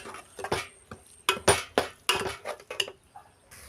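A spoon scrapes and clinks against a pan while coconut laddu mixture is stirred slowly over low flame, giving a run of irregular metallic knocks and scrapes, close and fairly quiet.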